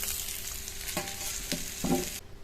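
Tomatoes and potatoes frying together in a pan, cooked village style, give a steady low sizzle with a few soft stirring scrapes, close and moderately quiet, with no talking.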